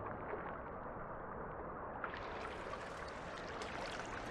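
In the Rain World video game, a creature slips into water with a soft splash, followed by quiet gurgling and a steady watery wash that brightens midway, faint and distant.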